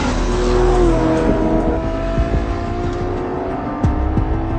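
A 2015 Ferrari LaFerrari sports car engine revs loud and near, a sustained throaty roar with rising and falling pitch and a few sharp throttle blips.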